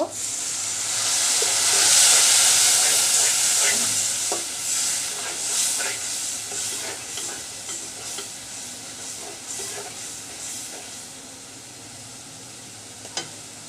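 Turmeric and red chilli powder hiss and sizzle steadily in a hot pan after a splash of water, with clicks of stirring, loudest at the start and easing off gradually.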